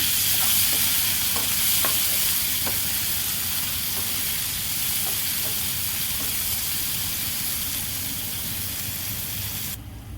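Tomatoes and onions sautéing in a pan for Maharashtrian green chilli thecha give a steady, close sizzle with soft scraping stirs and occasional light clicks of the spoon against the pan throughout.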